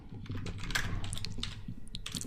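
Rapid keystrokes on a computer keyboard while entering HTML heading tags, a close, fairly steady run of light clicks with brief pauses between bursts, no voice.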